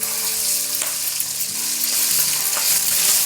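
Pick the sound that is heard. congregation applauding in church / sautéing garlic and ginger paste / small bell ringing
sautéing garlic and ginger paste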